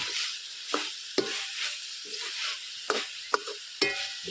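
Dried Bombay duck fish sautés in a pan in a village kitchen, a continuous dry sizzle broken by several sharp scrapes and clinks of a spoon stirring, heard close and fairly quiet with no talking.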